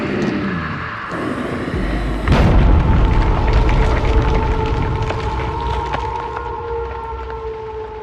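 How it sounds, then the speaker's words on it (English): A grenade goes off in the Five Nights at Freddy's movie: a sudden loud boom hits midway and rolls into a long, dense rumble with a ringing, siren-like whine sustained above it to the end. "Agent Burke throws one last grenade"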